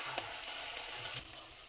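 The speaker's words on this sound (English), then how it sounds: "Remove the link from the pot and place it in a hot skillet." A boudin Cajun sausage link, boiled from frozen, hits a hot skillet and gives off a brief, even, fairly quiet hissing sizzle.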